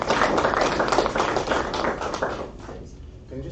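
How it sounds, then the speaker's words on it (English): Audience applause at a national political conference fills the room, loud and sustained with dense clapping, fading near the end as a voice begins to speak. "Give a warm applause to Morozov."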